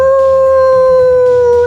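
A voice imitates a toy werewolf's howl, a long, loud, sustained wavering howl held close to the microphone for nearly two seconds, with no other talk.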